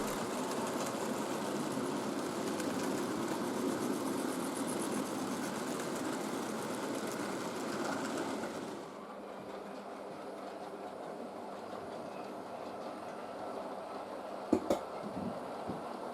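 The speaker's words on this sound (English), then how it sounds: "it's in the hands of one of the largest LNER locomotives, a P2, running in from Doncaster" A model LNER P2 steam locomotive running on a railway layout gives a steady, faint mechanical rumble and whirr that softens partway through, followed by a couple of quiet clicks near the end, with no voices.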